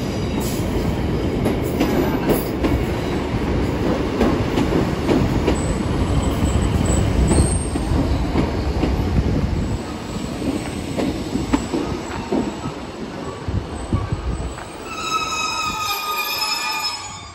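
A train rolls into Exeter St Davids station with a loud, steady rumble of wheels on track, rhythmic clicking over rail joints, and high squealing from the wheels, which eases as it slows.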